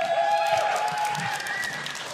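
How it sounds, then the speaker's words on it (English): Steady crowd applause at a League of Legends esports match fills the space, a dense wash of clapping with a bright tone ringing above it throughout. "the applause is very much merited"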